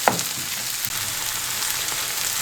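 Steady, close sizzling of onions sautéing in a hot pan, a continuous crackling hiss with a brief clink near the start.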